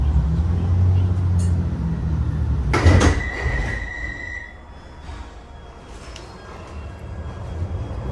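Interior of a moving London Marylebone train carriage: low rumbling hum and rattle, a sharp clatter or door knock near the middle, then a quieter steady drone with a faint whine.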